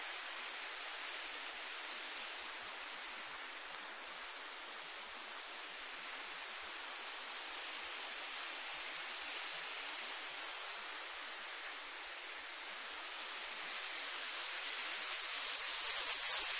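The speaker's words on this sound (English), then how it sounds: "The waterfall coming down here." A waterfall in Glacier National Park pours in a steady, full hiss and rush that holds at an even level throughout, swelling slightly near the end, with no talk over it.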